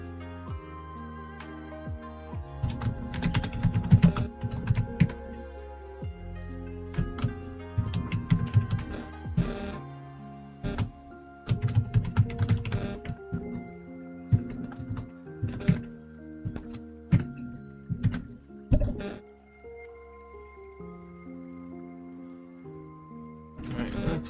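Computer keyboard typing during a quiet C# coding session on a game project, with irregular bursts of clicky keystrokes and pauses, close and fairly soft over a low background with music-like tones.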